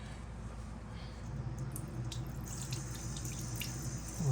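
A faucet runs steadily, rinsing sand and debris out of a fixture in a sink, water splashing continuously at close range with a slight rise at the end.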